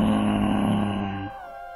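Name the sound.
roar of Meong Hideng, a spirit cat, audio drama effect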